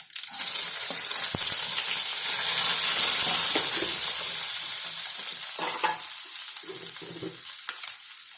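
Mustard seeds crackle and sizzle in hot oil at close range, a steady bright frying hiss with scattered pops and spoon stirring for the whole stretch, no voices over it.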